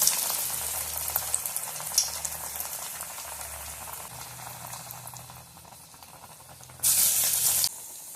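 Flattened chana dal vada dough patties bubble and sizzle steadily in hot oil, a dense close-up crackle with a louder hissing burst near the end.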